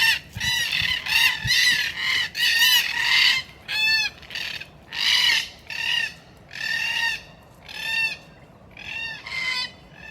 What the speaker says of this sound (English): And now that I've arrived, these red-tailed black cockatoos are here.